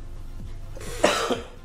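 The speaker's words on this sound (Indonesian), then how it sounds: "sorry sorry ya agak batuk ini kebanyakan debu" A single harsh cough, brought on by dust, bursts out near the mic, followed by a second shorter cough, with no talking.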